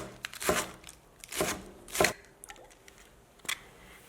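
A knife chops through lettuce leaves on a cutting board, shredding them in four or five separate crisp strokes with short pauses between, close and alone.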